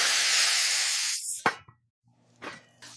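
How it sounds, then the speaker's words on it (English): Steam hisses loudly and steadily under a dome as American cheese melts on a smash burger, then cuts off sharply, followed by a couple of lid clatters and faint kitchen sounds. "Dome it and add steam."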